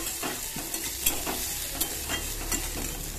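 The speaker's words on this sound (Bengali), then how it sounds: "কড়াইতে তেল দিয়ে তার মধ্যে সব রকম সবজি দিয়ে দিয়েছি" Mixed vegetables (carrot, potato and beans) stir-frying in hot oil in a kadai, a steady close sizzle broken by several sharp scraping stirs of the spoon against the pan.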